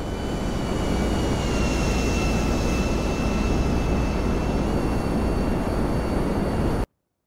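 A GTA airplane engine gives a constant, loud, broad roar with a faint high whine on top, holding steady for about seven seconds before cutting off abruptly.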